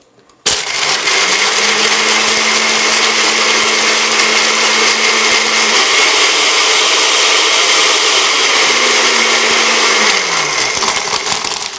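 A small kitchen blender mixing a drink, starting abruptly and whirring loud and steady for about eleven seconds, its motor pitch shifting slightly midway and dropping as it winds down.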